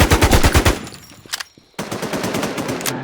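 Rapid automatic gunfire in the NewZ video game: loud, close bursts of machine-gun fire, a short lull with scattered shots, then another sustained stretch of dense, rattling fire.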